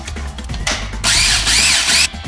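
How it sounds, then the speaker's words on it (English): A food processor whirs in short bursts as it grinds toasted chili flakes, the loud high buzzing motor starting and stopping abruptly, close up with no talk. "I got a food processor. I'm gonna put my toasted chili flakes in there."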